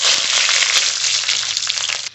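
Radhuni seeds and garlic sizzle loudly in hot mustard oil in a kadai, a bright, crackling hiss that runs continuously before easing off at the end.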